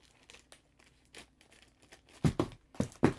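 Lego train set packaging being opened, a few sparse crinkles followed by louder plastic crunches and tearing bursts close by toward the end.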